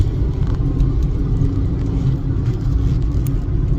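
Inside a car on a morning drive to work along the road, a steady low engine and tyre rumble holds at an even, fairly loud level without pause, and no one speaks.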